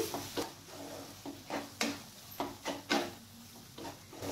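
Chicken keema masala being stirred in a pan, a soft series of scraping strokes and light clinks repeating at an uneven pace, with a faint sizzle underneath, close and quiet.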